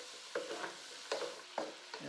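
Cabbage stir-frying in a pan for fried rice, a soft continuous sizzle broken by several distinct stirring scrapes and tosses at irregular intervals, fairly quiet and close.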